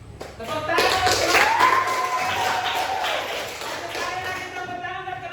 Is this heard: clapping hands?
yes